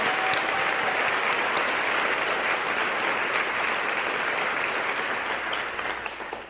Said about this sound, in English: one more large round of applause, if you don't mind, for our nominees and physician candidates